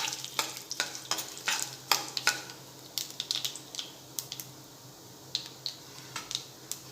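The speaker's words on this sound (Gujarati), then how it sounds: "હવે આપણે 2 મોટી ચમચી જેટલા તલ એડ કરીશું અને તલને પણ થોડા આપણે તતળવા દઈશું" Mustard seeds and a couple of spoonfuls of sesame seeds crackle and pop in hot oil in a kadai while Gujarati patra is being made, with sharp irregular snaps over a steady sizzle.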